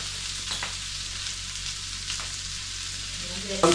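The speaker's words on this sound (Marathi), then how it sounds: "पॉपकॉर्नला कसे आवाज येतात पट पट पट पट, तसे ते प्रोसेसमध्ये तुम्हाला आवाज येत राहील" Corn frying in a pan for a homemade corn recipe gives a steady, close sizzle with a few soft pops and stirring scrapes, ending in a brief louder clatter.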